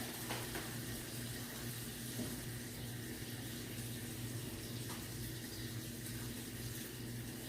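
Steady stream of water poured into a pan for curry with vegetables and steak, a continuous faint splashing rush that stays even throughout, with no talking.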